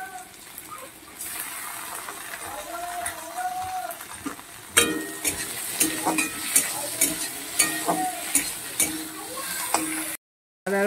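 Tomatoes and green chillies frying in a pan give a continuous crackling sizzle, with a burst as they go in and then a run of regular clinks and scrapes from the stirring spoon, near and clear.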